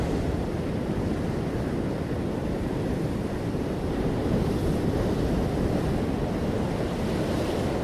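Sea waves pound the shore along the coast near Vizhinjam as a loud, continuous roaring surf, heavy with low rumble and buffeted by wind noise on the microphone, with no one speaking.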